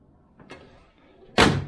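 A Land Rover Series 3 88 door shuts with one sharp, loud metallic slam near the end, after a faint clunk and quiet handling noises.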